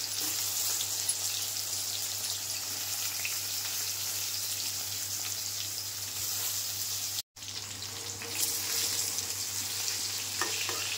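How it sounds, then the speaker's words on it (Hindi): Eggplant pieces coated with turmeric and salt fry in hot oil in a kadai, a steady loud sizzle running throughout, with a brief cut and faint stirring scrapes later. "ताको गोटे गोटे करके ताको तेल रे देली छागिया पे"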